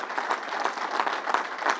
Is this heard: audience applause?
yes